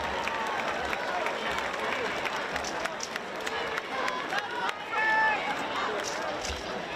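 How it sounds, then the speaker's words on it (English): Applause from a stadium crowd at a college football game, steady and moderately distant throughout, mixed with crowd murmur and an announcer's voice. "Please join us in giving a big Trojan round of applause for these future track and field stars."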